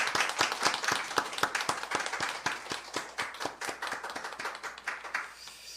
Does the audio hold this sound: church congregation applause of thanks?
yes